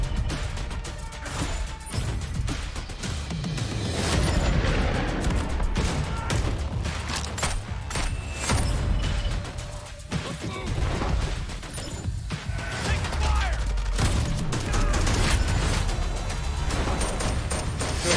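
Constant heavy gunfire and explosions from a Call of Duty Warzone 2 Season 2 trailer, dense and loud throughout, layered with music and crashes.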